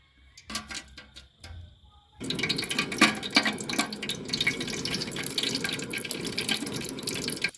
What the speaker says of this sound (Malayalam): ഒന്നിനെ ഒന്നര എന്ന കണക്കിൽ വെള്ളം ഒഴിച്ചു കൊടുക്കാം